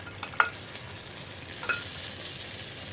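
Fried cashews and raisins go into payasam, a steady low sizzle under two brief bright clinks of a spoon against the pot, with no talking.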